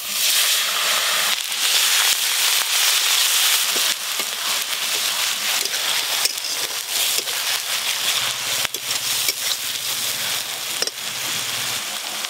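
Sugar and nigella seeds crackle and sizzle in hot oil for a fish curry, a continuous close hiss with scattered sharp pops throughout; no one speaks.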